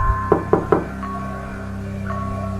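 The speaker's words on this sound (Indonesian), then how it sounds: "Suara keras dari dalam keranda. Duk, duk, duk." Three loud, quick knocks sound from inside an old, cracked green wooden coffin in a small prayer room, then give way to a quiet, steady hum.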